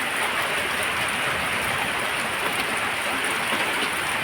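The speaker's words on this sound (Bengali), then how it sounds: "আমাদের বৃষ্টি হচ্ছে" Rain falls steadily, a continuous dense hiss of drops pattering on surfaces nearby, even in level with no pauses and no voices.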